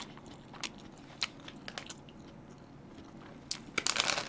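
Biting and chewing an Isaac Toast hot chicken MVP sandwich, several crisp crunchy bites spaced irregularly, close and fairly loud, building to denser crunching at the end.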